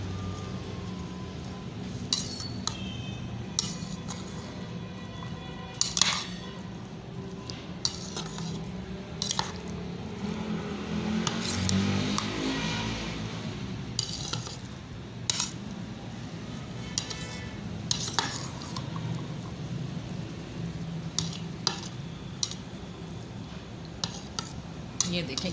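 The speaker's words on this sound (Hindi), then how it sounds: "अब इसको मैं अच्छी तरह मिक्स कर लूँगी।" Salad tossed with chaat masala in a bowl, a spoon scraping and clinking against the dish in quick, irregular strokes, fairly quiet, with light rustling of the chopped vegetables throughout.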